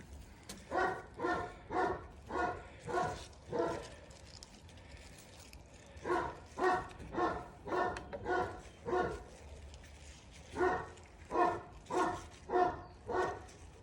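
A dog barks repeatedly in rhythmic bursts of four to six barks separated by short pauses, at moderate distance and fairly quiet.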